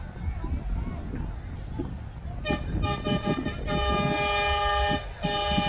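Vehicle horns honk at a Thai rocket festival, several loud tonal blasts, some long and sustained, sounding over a busy crowd and festival noise.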